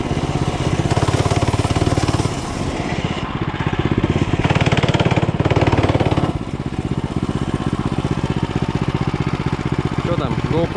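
A home-built mini bike's small engine runs loud and close, its pitch swelling as the revs climb around the middle, then settling back to a steady buzzing drone.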